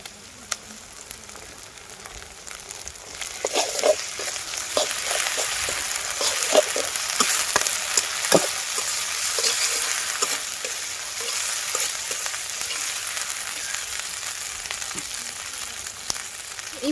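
Softened onion frying with garlic and cumin paste being stirred in a pan, a steady close sizzle with scattered spoon scrapes and clicks.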